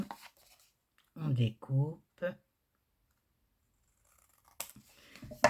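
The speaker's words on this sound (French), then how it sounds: "on découpe les angles, ça c'est pour celles qui n'ont pas de die" Scissors snipping the corners of paper for a handmade ATG box, a few short crisp cuts separated by near silence, with someone speaking at the end.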